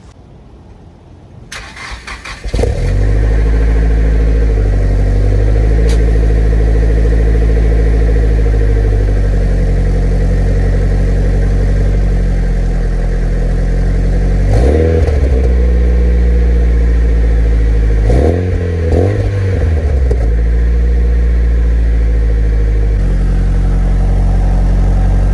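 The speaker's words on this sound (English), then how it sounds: "Now we're gonna try engine start video" A low-mileage 1999 Nissan Silvia S15 Spec-R cranks briefly and fires up, then settles into a steady, smooth idle close by, with a few short throttle blips along the way.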